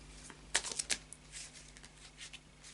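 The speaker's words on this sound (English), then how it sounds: "then a final shuffle of the Oracle of Dreams" A deck of Oracle of Visions cards is shuffled close up, a few quick riffling bursts followed by softer rustles and taps.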